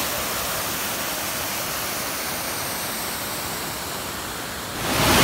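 The Urulikuzhi waterfall in Kerala, tumbling down over many small rock tiers, gives a loud, constant close-up rush of falling water that holds steady throughout and surges slightly louder at the very end, with no voices.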